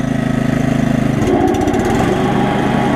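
Honda UM2460 rough cut lawn mower running loud and close, a steady throbbing engine note that shifts and thickens about a second in as the blade engages, then keeps churning evenly.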